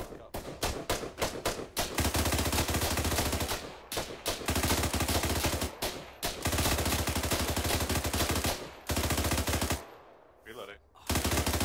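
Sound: machine gun fire in video game ArmA 3

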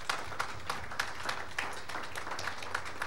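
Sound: applause for the three speakers

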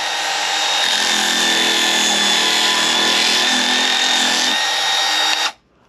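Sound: Craftsman V20 cordless bandfile sanding at high speed

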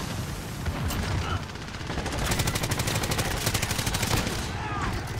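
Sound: PKM machine gun firing in Modern Warfare video game

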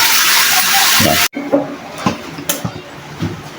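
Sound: water running from handheld telephone shower

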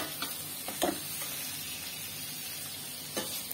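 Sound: chicken kofte frying with masala

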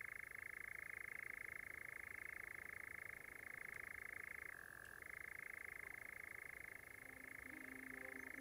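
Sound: European nightjar churring on heathland at night

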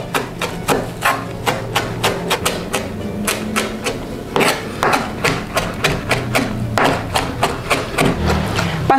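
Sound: chopping garlic and parsley finely

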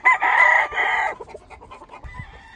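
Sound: roosters crowing and clucking

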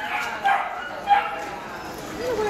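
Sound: young dog barking at an adoption event

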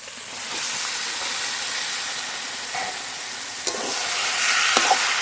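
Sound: marinated chicken frying and being stirred in spice masala

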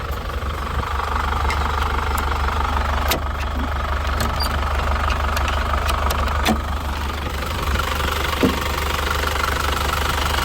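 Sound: TDI diesel engine idling

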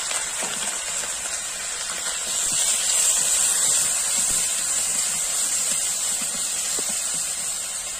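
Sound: ginger, cumin and garlic pastes sizzling in hot oil

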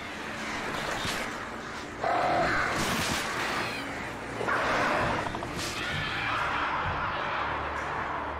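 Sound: crows cawing in Alan Wake Remastered, video game

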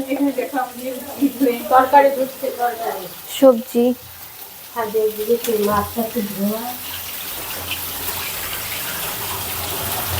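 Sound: fish frying in a pan

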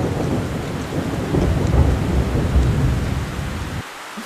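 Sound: heavy rain with thunder in animated film

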